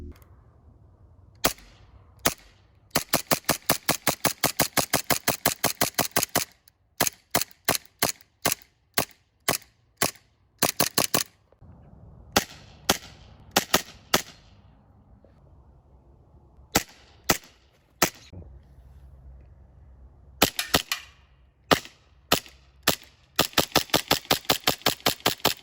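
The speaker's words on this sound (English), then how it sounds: "now I'm going to put up a shooting montage of this tracer with it on flash mode, tracer mode, and flash and tracer" Airsoft gun fitted with an Acetech tracer unit firing sharp snapping shots, alternating rapid full-auto bursts and single spaced shots, close and loud with quiet pauses between strings.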